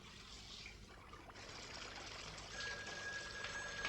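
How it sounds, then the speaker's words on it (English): Water trickles and splashes steadily at close range, a continuous running, pouring wash that grows slightly louder toward the end, with no voices. "Move back, you're splashing."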